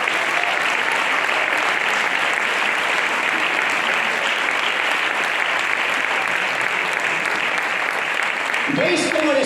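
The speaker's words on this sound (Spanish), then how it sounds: "Fuerte el aplauso." Loud, sustained applause from a church congregation, dense continuous clapping that fills the space evenly and breaks off abruptly at the end with a voice cutting in.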